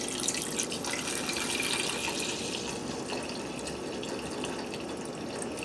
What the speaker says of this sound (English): Cover with rice water.